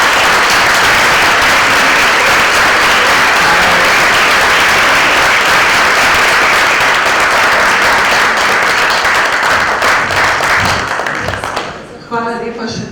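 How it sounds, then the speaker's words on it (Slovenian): Loud, sustained audience applause at a gathering of Slovenian adult education centres, dense clapping from a large hall filling most of the span before tapering off, followed by a voice starting to speak. "tako da predlagam, da si malo zaploskamo."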